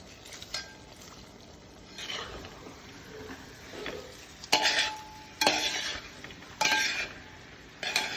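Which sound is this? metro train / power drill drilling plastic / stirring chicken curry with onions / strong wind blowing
stirring chicken curry with onions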